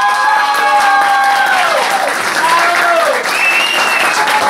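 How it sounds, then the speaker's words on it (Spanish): A talent-show audience gives dense, loud applause for a contestant at a monthly final, a continuous wash of clapping with crowd voices and whistle-like cries rising over it. "Aplauso para Madison"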